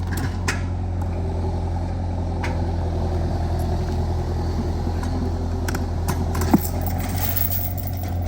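A skid steer loader's diesel engine runs steadily close by during a muddy excavator recovery, a constant low rumble with occasional clanks and knocks over the top and no talk.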